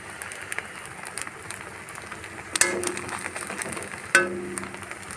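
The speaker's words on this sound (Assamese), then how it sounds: "এইখিনি এনেকৈ ভাজি থাকিব লাগিব।" Spices with turmeric powder frying in a pan for dhekia fern greens, a soft crackling sizzle close by, with two sharper stirring scrapes standing out midway.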